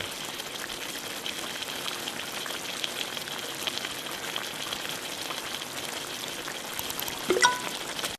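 Stock simmers in a pot on a kitchen stove in a cooking game, giving a faint, steady bubbling hiss throughout, with a brief louder knock near the end.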